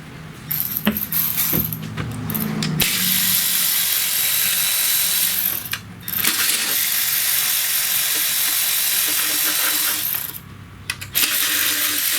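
A ratchet drives a 5 mm Allen socket on the spark plug job of a 2014 Toyota Highlander Hybrid, giving close, bright clicking bursts between stretches of steady broadband noise.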